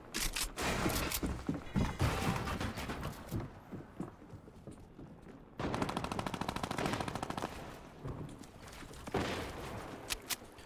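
Fortnite gunfire: rapid loud bursts of automatic shots, a short lull, then another long burst of fast repeated shots and a final flurry.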